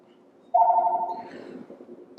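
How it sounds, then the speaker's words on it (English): A phone rings with a steady electronic trill that starts abruptly and holds for under a second, followed by softer background noise and a brief click at the end, with no talking. "The phone rang."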